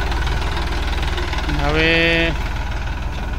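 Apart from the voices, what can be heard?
tractor engine running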